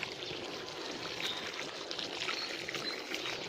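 Water pouring onto plants and soil during morning garden work, a steady splashing rush that runs without pause for the whole few seconds, close by and with no talk.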